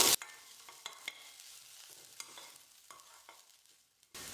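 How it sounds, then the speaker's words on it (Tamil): Soft stirring and gentle sizzling of grated coconut sautéing in a pan over low heat, with occasional scrapes of a spatula, close and fairly quiet. "தீ குறைச்சி வச்சுட்டு ஒரு 1 நிமிஷம் நல்லா வதக்கினா போதும்"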